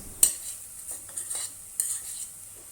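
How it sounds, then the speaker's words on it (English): Onion and garlic paste sautéing in hot oil, a soft sizzle broken by a few short stirring scrapes, close and fairly quiet, without talk. "add the onion and garlic paste, then saute for about 3 minutes"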